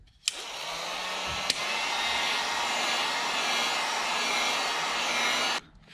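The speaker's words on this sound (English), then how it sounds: "get your heat gun ready and warm up a bit the double-sided tape" A heat gun warms the double-sided tape on a 2012–2019 VW Passat side skirt. A click starts it, then a steady, close, blowing roar runs for about five seconds before it cuts off.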